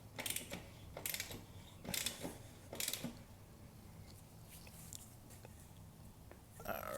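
A 19mm wrench tightens the rear axle nut on a Honda CB500F motorcycle, giving a few quiet metallic ratcheting clicks and scrapes in short bursts, close by, against a faint low background.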